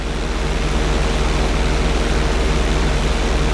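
Steady, continuous drone of an airplane engine during a flight lesson in GTA 5, level out of a knife-edge manoeuvre, loud and unbroken with a broad, noise-like roar throughout.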